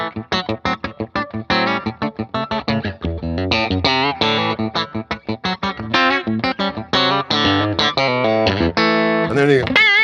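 Electric guitar played in a rhythmic style with effects, choppy picked notes and chords in quick bursts with short gaps, loud and close, with no talking over it.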